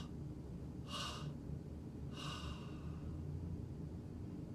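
A soft, close breath is drawn in, then let out slowly, two brief airy rushes about a second apart over a quiet, steady hiss.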